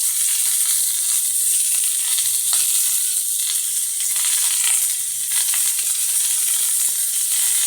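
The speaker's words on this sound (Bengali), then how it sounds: "এবার একটু নেড়ে চেড়ে দিচ্ছি, লবণটা ভালোভাবে মিশিয়ে দিচ্ছি।" Ridge gourd poppy seed curry with salt added sizzles steadily in a pan while being stirred, a continuous close hiss with a few faint scraping touches.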